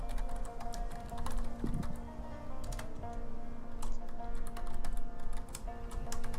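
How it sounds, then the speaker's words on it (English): Steady typing on a computer keyboard, a continuous patter of close key clicks over a low hum, with no talking. "we know what the typing means"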